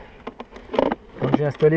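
Honeybees from a newly installed swarm buzz around beehive number 37, a close insect hum mixed with a person talking nearby.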